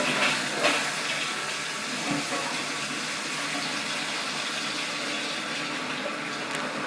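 A newly installed toilet fills with water, a steady rushing hiss of the supply flowing into the tank, constant and moderately close with no talk.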